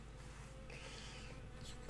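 A bee hovers near a computer in a small room, giving a faint, wavering buzz that swells and fades over a couple of seconds against low background hum.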